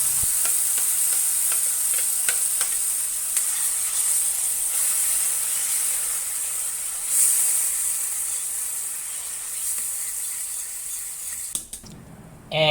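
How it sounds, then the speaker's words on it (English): Spices and onion paste for dum aloo sizzle and hiss steadily in hot oil, close and loud, with occasional stirring clicks, before the frying sound cuts off abruptly near the end. "Once they turn aromatic, mix them with the onion paste."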